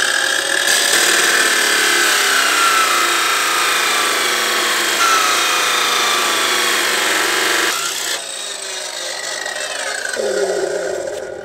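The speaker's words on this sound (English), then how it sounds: "I'm gonna let Micah use our cut off tool, and he's gonna do our cuts." A handheld cut-off tool grinds steadily through a hardened grade 8 bolt on a John Deere Gator clutch job, a loud continuous abrasive whine with no pause for about eight seconds before it changes pitch and tapers off.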